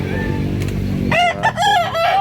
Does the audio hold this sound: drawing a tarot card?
no